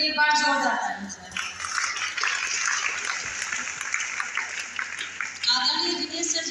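An audience gives a sustained burst of applause at an event honoring a speaker, the dense clapping filling the middle of the moment with voices talking before and after.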